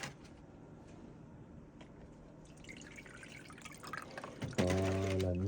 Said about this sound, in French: on va rincer le filtre lui aussi